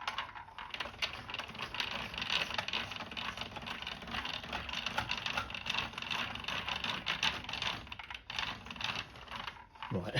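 Hand-cranked wooden automaton with a toothbrush mechanism turning, a continuous close clatter of wooden gears and cams ticking rapidly for about ten seconds.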